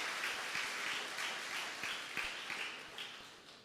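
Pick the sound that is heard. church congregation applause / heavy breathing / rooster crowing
church congregation applause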